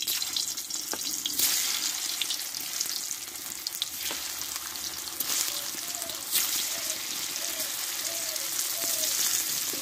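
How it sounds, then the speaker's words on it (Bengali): Partly boiled potatoes sizzle in mustard oil in a home kitchen, a steady hiss of frying with occasional stirring scrapes and clinks throughout. "দিয়ে এবার আলুটা অল্প আমি একটু কষে নেব, অল্প করে হালকা করে।"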